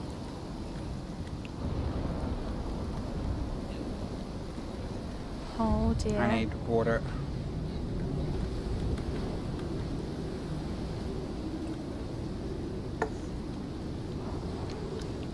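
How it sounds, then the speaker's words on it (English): Wind and a storm rumble steadily in the video game Icarus, with a low, continuous roar under someone speaking briefly in the middle, and a faint sharp crack near the end. "you'll be taking heavy exposure damage from being out in the storm"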